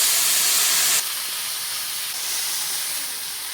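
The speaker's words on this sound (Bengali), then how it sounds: "4 বাটি জল ঢেলে দিলাম। দেখুন বন্ধুরা, ফুটতে শুরু করে দিয়েছে।" A pot of water with salt and turmeric coming to the boil gives a loud, continuous steamy hiss that drops slightly after the first second and then holds steady, with no speech.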